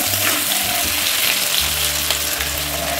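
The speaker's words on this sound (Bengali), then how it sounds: "আলু ভাজা বসিয়ে দিয়েছি উনুনে" Potatoes fry on a home stove in a close, steady sizzle of bubbling oil with a low hum running beneath, continuous for a few seconds and no voices.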